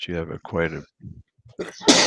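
A single sharp, loud sneeze comes near the end, right after some brief speech during a tabletop Pathfinder game session.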